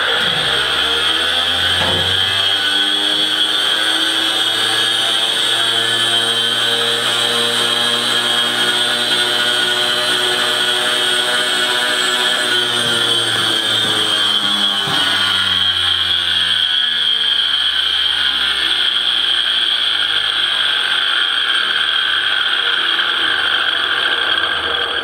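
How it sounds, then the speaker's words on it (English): A starter motor on a 990 is run to check how freely it spins, giving a continuous loud mechanical whine and rattling whir with shifting pitch, steady throughout with no talking. "we can run the starter out something and see how freely the starter moves"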